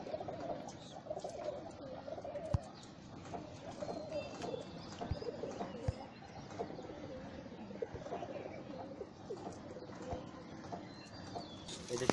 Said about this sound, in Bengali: আমরা এখন থরের কবুতর দেখবো